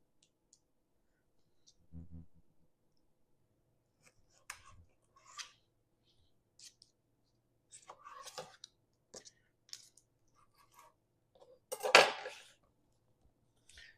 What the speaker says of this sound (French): Je vais couper aussi en deux mes rondelles de citron.